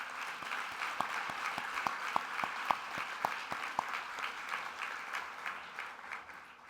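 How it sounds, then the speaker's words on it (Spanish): Audience applause at a foundation's tenth-anniversary celebration, with a few sharp individual claps standing out early over a steady, moderate round of clapping that continues throughout and slowly fades. "pido un aplauso para ella y para todo el equipo de trabajo"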